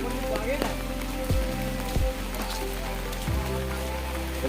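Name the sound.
raindrops falling during flooding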